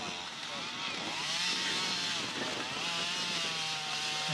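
A chainsaw cutting through hedge branches gives a steady, continuous engine drone with a rising and falling pitch as the blade works. It sits at a moderate distance with outdoor background texture.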